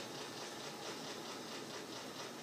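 Steady mechanical rumble of a train engine in the video game GTA 4, a continuous broadband drone holding level throughout with no talk over it.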